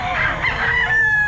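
A single rooster crows loudly and close at the Grotto pet market, one drawn-out rising call standing out over a low background murmur.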